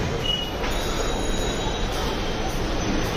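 Dhaka metro rail train at a station platform, a steady loud rumble of rolling stock with a thin high wheel squeal running through it, continuous and close.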